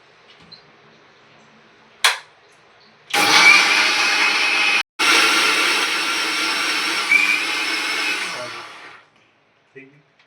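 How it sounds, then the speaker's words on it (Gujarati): A kitchen mixer grinder whirs loudly as it blends chopped raw mango for sharbat, starting after a short click, running steadily for several seconds with one brief pause, then winding down to stillness. "ચડાવી દીધું છે મિક્સર ઉપર."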